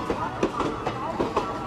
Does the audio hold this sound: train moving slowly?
yes